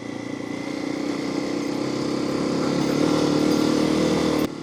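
A Honda XR250 dirt bike climbs a wooded hill, its single-cylinder engine droning steadily and building slightly in load, loud and close, then cutting off abruptly at the very end.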